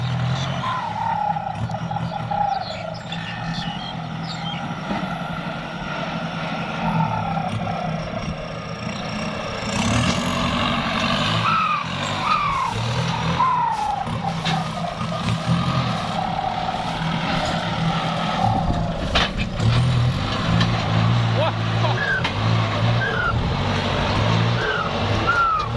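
Kubota tractor ploughing rice stubble in wet field soil, a steady low engine drone running continuously and fairly close throughout, with faint higher squeaks and no talk.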